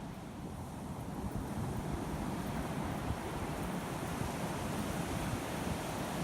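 Steady surf and wind rush along a pristine, undeveloped stretch of beach at False Cape State Park, Virginia, a continuous broadband roar of waves with no voices present.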